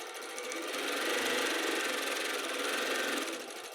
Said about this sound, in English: You can see how fast the machine's actually sewing, and that we're getting very fine stitches.